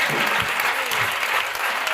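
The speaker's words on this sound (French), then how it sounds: "Acclame pour Jésus." A congregation at an evening prayer service in a church bursts into loud, dense applause that runs continuously throughout, with faint voices mixed in.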